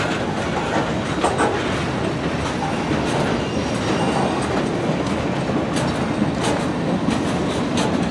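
CSX freight train Q410, led by locomotive 5426, rolls past close by in a steady continuous roar of wheels and cars, with rhythmic clickety-clack and occasional squeal over the full span.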